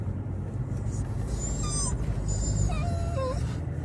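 Loose dogs roaming the street give a few thin, high whimpering whines over a steady low rumble of traffic, with voices talking.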